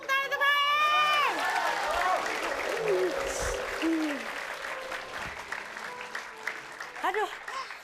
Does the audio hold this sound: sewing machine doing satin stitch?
no